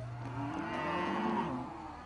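Cattle brought to a livestock market during a severe drought moo and low, with overlapping calls from several animals over a steady, busy background.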